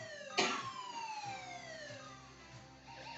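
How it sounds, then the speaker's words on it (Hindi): A Saudi Aramco hydrogen sulfide (H2S) release alarm: a sharp burst opens a loud siren-like alarm, which then holds a long wailing tone that glides lower over a few seconds. "hydrogen sulphide H2S release alarm"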